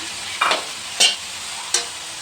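Cauliflower being stirred and fried with spices in a pan: three short, sharp scraping sizzles, close and fairly loud, over a steady low frying hiss.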